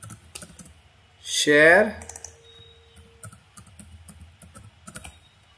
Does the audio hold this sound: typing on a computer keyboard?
yes